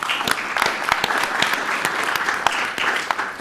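A conference audience in a hall gives a round of applause, many hands clapping steadily and fairly loud throughout with no voices over it.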